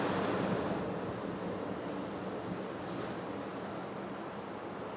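Ocean waves rolling on the shore, a soft continuous wash of surf that swells slightly at the start and then settles into a steady even roar.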